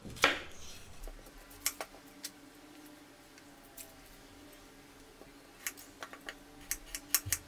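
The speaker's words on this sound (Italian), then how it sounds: "dobbiamo andare a tagliare la cipolla a fettine" Knife slicing an onion thinly on a cutting board in a home kitchen, a series of soft, irregular taps spaced out, quiet and close, with no talking.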